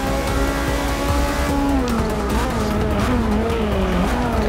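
Race car engine and tires in Forza Motorsport 6, a loud, continuous engine whine climbing and dropping through gear changes, with tire squeal and skidding mixed in as the car pushes through corners.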